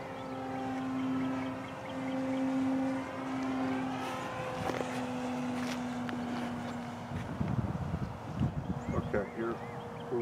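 A Horizon Hobby Beast 60e electric RC plane motor at half throttle gives a steady tonal whine that drifts slowly in pitch and rises and falls as the plane passes outdoors near trees, with someone talking near the end.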